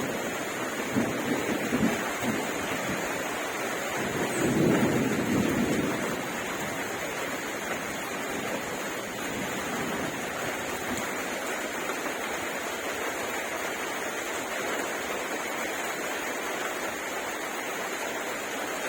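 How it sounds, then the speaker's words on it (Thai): Heavy outdoor downpour hisses steadily and loudly throughout, with a brief deeper swell near the start and no voices. "ดูฝนตกในวันนี้ดูท่าจะรุนแรงมาก"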